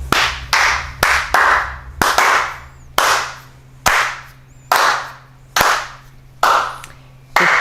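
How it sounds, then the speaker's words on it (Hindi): Students in an online physics class clap in response to their teacher: about a dozen sharp, separate hand claps close to the microphone, each followed by a short ringing decay, coming at a loose, uneven rhythm with no talking. "तालियां बजा दीजिए"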